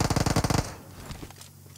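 Rapid burst of automatic gunfire in the battle royale game PUBG, about a dozen loud evenly spaced shots over half a second, then fading into quieter background game sounds.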